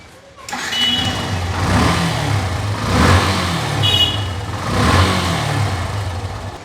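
Yamaha FZS V1 motorcycle engine running close by after its head chamber was carbon-cleaned, a steady loud idle that swells into a few revs and settles back, with no talk.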